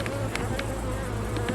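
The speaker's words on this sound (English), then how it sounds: "Lots and lots of bees." Honey bees buzz steadily throughout a November hive inspection, a dense, continuous insect drone close by with no talking.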